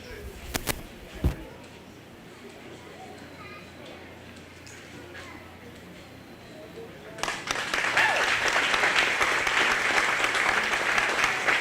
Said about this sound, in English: give these kids one more big round of applause